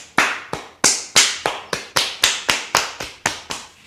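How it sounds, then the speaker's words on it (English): Hands clap onto a bare foot during a yoga class: about eleven crisp, close slaps in a steady rhythm, each ringing out briefly before the next. "And lastly, clap the hands onto the foot"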